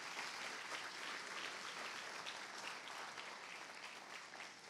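A church audience gives steady, sustained applause for Jesus, a dense wash of many clapping hands, heard faintly from a distance and fading slightly at the end.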